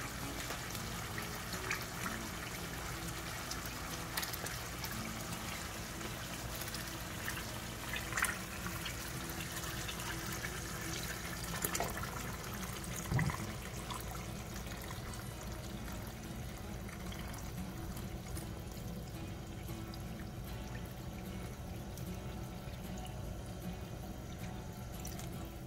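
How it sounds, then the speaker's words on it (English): Beef stock pours into a pot for braised short ribs, a steady close liquid splash and trickle running continuously with no talk. "Now we're gonna add the beef stock."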